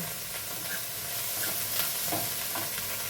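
Red chillies dropped into hot oil in a frying pan while cooking butter chicken, giving a steady, close sizzle with stirring scrapes throughout.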